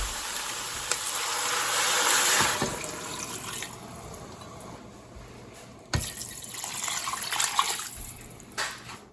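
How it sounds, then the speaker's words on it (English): Beef stock and water pour into a stew pot in a loud, splashing stream that eases off, then surges again with a second pour, close by and with no one talking. "we're going to add 4 cups of water on top of that as well"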